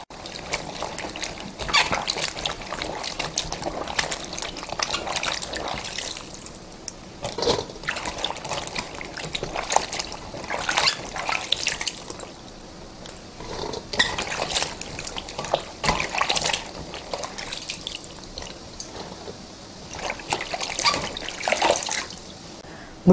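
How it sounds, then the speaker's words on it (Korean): Fermented chili peppers rinsed by hand in clear water, close continuous splashing, sloshing and trickling with irregular surges over about twenty seconds and no talking. "맑은 물에 한번 헹궈 줄게요."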